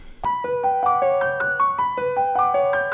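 An original piano melody pattern programmed in FL Studio plays as a steady sequence of clear, bright notes stepping up and down in an even rhythm, moderately loud with no talking.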